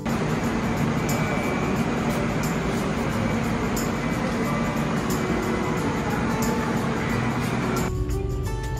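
Garib Rath Express passenger train running through the night near Cuttack station, a steady loud rumble of wheels and carriage noise that holds throughout, shifting tone near the end.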